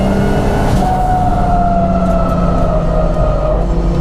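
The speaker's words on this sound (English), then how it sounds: "It's got a V8 behind me." A tuned, turbocharged 500 hp Audi A5 at speed on a race track, its engine holding a loud, steady drone with rising whining harmonic tones throughout, close and continuous with no voices.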